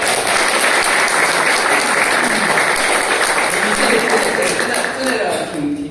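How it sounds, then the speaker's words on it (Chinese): An audience at a lecture claps in sustained, dense applause for several seconds, loud and even, thinning slightly toward the end. "此处应该掌声哈"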